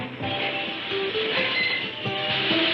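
A cartoon train, the Gold Train, rumbles past at a steady moderate loudness, with sustained rail noise and faint rhythmic wheel clatter and some tonal squealing throughout.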